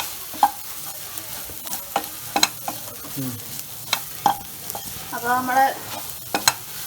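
Masala spice powders frying in a hot pan for a Kerala-style beef roast, with a steady sizzle, scraping stir strokes, and sharp utensil clicks against the pan; a voice speaks briefly.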